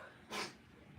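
One short, breathy sneeze bursts out close by and is over in a fraction of a second against a quiet indoor background.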